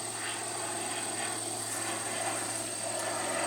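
A steady engine drone hums overhead, a continuous even roar of an aircraft passing with no other sounds standing out.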